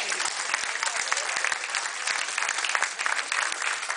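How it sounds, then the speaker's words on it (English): Dense, continuous audience applause at a casino stage show, loud and even throughout, with a busy texture of many hands clapping and no talk over it. "Let's give another round of applause."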